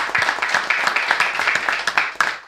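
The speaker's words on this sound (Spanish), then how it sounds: "Señoras y señores, fuerte el aplauso." A smaller studio audience applauds with distinct, individually audible claps in an uneven, lively patter that fades toward the end.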